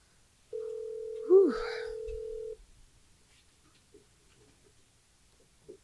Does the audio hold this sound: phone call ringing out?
yes